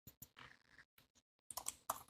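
Fingers tapping on a computer keyboard while writing HTML and CSS code, quick bursts of close, crisp key clicks separated by short pauses.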